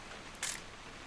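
A single short camera shutter click snaps photo-taking in the video game What Remains of Edith Finch, standing out briefly against a faint, quiet ambient background.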